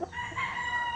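A rooster crows once in a short burst from a backyard chicken pen, clear and fairly close, with no talk.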